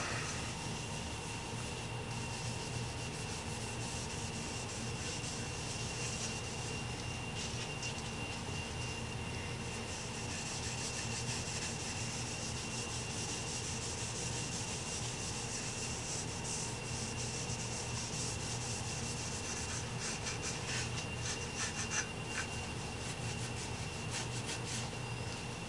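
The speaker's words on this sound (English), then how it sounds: "Come back and rub down the sides here." A rag rubs Tru-oil into a flamed walnut guitar body in a steady, continuous soft rasp with no breaks, faint and close, over a low constant background hum, with no talk.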